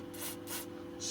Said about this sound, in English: I'm going to put a light spray coating of oil on there